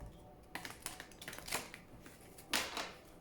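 Oracle cards shuffled by hand, a run of quick crisp riffling flicks in short uneven bursts, close and fairly quiet, with a sharper louder riffle near the end.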